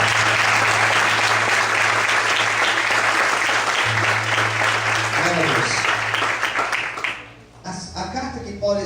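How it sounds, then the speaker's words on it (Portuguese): A church congregation claps loudly and steadily as sustained applause under a low hum, then dies away near the end as a speaking voice takes over. "Você pode aplaudir bem forte ao Senhor aqui"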